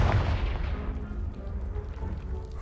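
A Confringo blasting spell explodes in Hogwarts Legacy, a loud booming burst at the start that decays into a rumbling tail of falling debris.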